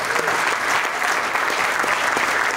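Audience applause fills a music hall of fame induction at the Knickerbocker, steady dense clapping from a crowd throughout, close and even in loudness.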